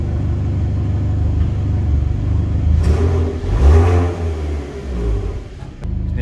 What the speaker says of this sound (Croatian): Neću ni da turiram uopće, sam htio da vam pokažem, stvarno auto fino, fino zvuči.